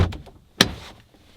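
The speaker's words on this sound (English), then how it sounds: "I will show you right when I open a door" A Toyota Tacoma truck door opens with a single sharp clunk and latch release up close, followed by a brief quieter rustle and a faint second click.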